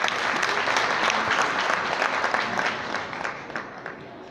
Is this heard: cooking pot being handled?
no